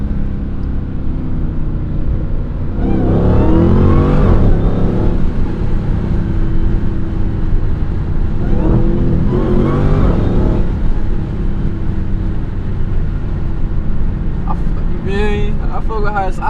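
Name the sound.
Dodge Hellcat engine revving with mid muffler delete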